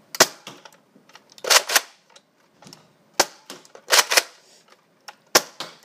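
Nerf N-Strike Retaliator blaster firing foam darts indoors, a run of sharp snapping shots in uneven clusters with short pauses between, close and fairly loud, with no speech.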